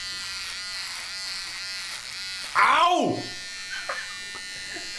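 An electric razor buzzes close up with a steady whine, then a sharp scraping burst and a short yelp of pain cut in, followed by faint handling noises as a voice speaks briefly.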